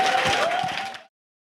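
An audience at an impeachment rally event claps briefly, a short burst of crowd applause that cuts off abruptly after about a second.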